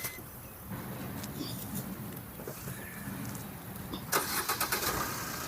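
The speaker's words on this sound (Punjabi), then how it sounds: "ਹੁਣ ਇੱਕ ਵਾਰ ਤੁਹਾਨੂੰ ਆਪਾਂ ਇੰਜਨ ਦੀ ਸਟਾਰਟਿੰਗ ਦਿਖਾਉਣਾ" A Maruti Ertiga VDI diesel car engine turns over and starts, with steady mechanical noise through the clip and a louder, rapidly pulsing burst near the end.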